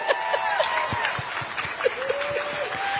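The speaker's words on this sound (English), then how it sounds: "There's laughter, there's applause." Crowd applause mixed with laughter fills the room after a line in a Kamala Harris speech, steady clapping with cheers and voices layered over it.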